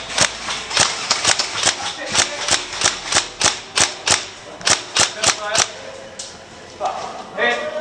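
Airsoft guns fire in rapid semi-automatic bursts during a game in a bunker, making sharp, close, evenly spaced cracks with a louder volley, then quieter shuffling and a brief clatter.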